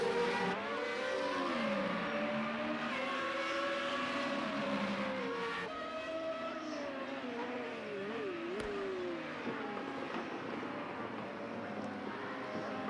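Formula Renault race car engines howl in a racing video game, a loud continuous whine of several cars that rises and falls through gear changes and revs for the whole stretch, with no voices over it.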